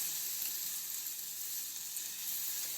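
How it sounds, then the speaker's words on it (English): Vegetables sauté in a pot for chicken and corn chowder, giving off a steady, even sizzle of frying with a faint stirring texture underneath and no talking. "We'll go ahead and start getting these sauteed in here"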